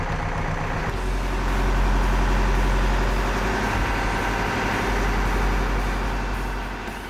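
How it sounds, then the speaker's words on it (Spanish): A Cat 416E backhoe loader's diesel engine runs steadily while its hydraulic implements are cycled to warm the oil, a heavy low rumble that swells slightly in the middle and eases off toward the end, with no talking. "Después de que el motor se ha calentado, caliento el aceite hidráulico moviendo los implementos."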